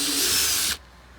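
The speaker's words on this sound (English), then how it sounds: "we're going to make a pilot hole in the center of the lid" A cordless drill with a 5/32 bit whirs at high speed for under a second, drilling a pilot hole in a lid, then stops abruptly, leaving quiet room tone.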